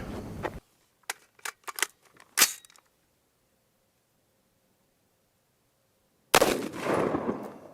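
Gunshot fired at a Shot Stop Duritium III+ armor plate: a few sharp handling clicks, then a long silence, then one loud close blast that rings on to the end.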